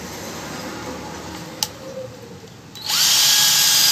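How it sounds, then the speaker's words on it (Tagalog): A cordless drill powered by a repacked nickel cadmium battery spins up near the end, a loud, steady, close whine after a quiet stretch with a small click. "Kunin ko lang yung drill na paggagamitan nito."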